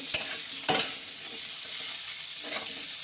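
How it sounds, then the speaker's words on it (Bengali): Banana flower and potatoes fry with turmeric and salt in a Bengali mochar dhoka preparation, a steady broadband sizzle punctuated by a couple of sharp stirring scrapes near the start and another toward the end, no talk. "এর সঙ্গে একসাথে আমি আলুগুলোকে ভালো করে হলুদ আর লবণ দিয়ে ভাজবো"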